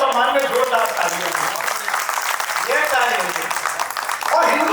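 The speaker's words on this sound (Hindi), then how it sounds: "एक बार उनके सम्मान में जोरदार तालियां" Loud, dense applause fills the hall at a Hindi comic poetry gathering (hasya kavi sammelan), a steady roar of clapping with voices rising over it.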